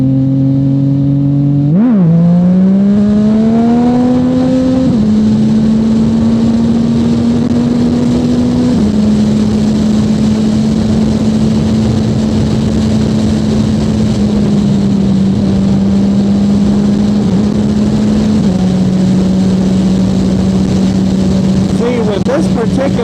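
A Yamaha FZ-09 motorcycle engine drones steadily as the bike is ridden, rising in pitch through the revs with brief dips at gear changes, alongside constant wind roar and a rider talking over it.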